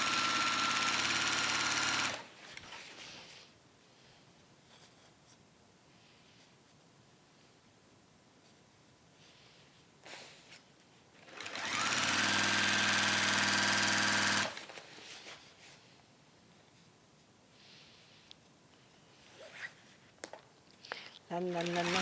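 A sewing machine stitches a seam on a waxed warmer in two loud bursts, one at the start and a longer run midway, separated by quieter handling noise and brief clatter.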